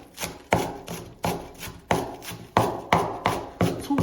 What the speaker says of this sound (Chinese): 我们来切点葱花。